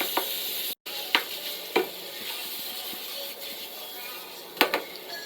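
Strips of oily prosciutto sizzle steadily in a hot pan, with a continuous fat crackle broken by a few sharp clicks and scrapes as the pieces are stirred and broken up; no talking.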